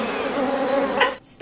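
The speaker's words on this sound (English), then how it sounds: "you would not be walking towards me with all the bees" A swarm of bees buzzes in a movie scene. The drone is steady and close, and it ends in a few sharp knocks and a sudden drop.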